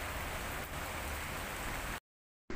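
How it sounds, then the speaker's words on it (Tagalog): Heavy rain pours down in a steady, dense hiss, then cuts to total silence briefly before the downpour resumes. "Ang lakas ng ulan."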